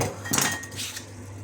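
A metal wok (kawali) clanks and scrapes as it is handled while oil is poured in for cooking ginger pork, one brief bright clatter followed by a softer rattle, close by with no voices.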